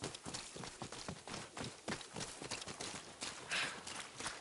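Horse hooves clip-clop in a steady, rapid rhythm in the video game Ghost of Yotei, fairly loud and close throughout, with no talking.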